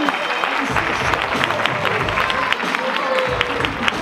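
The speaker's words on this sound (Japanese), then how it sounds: "この2人に大きな拍手を。" Crowd applause with some cheering at a 2016 bodybuilding classic contest, given for two contestants, a dense and continuous wash of clapping from a large audience.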